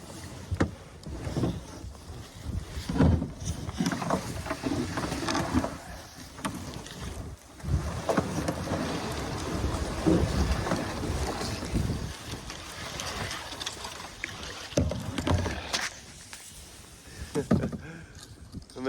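A solo canoe is paddled and scraped through shallow water on the Rankin River, giving continuous rough scraping, splashing and wind noise up close, with no talk.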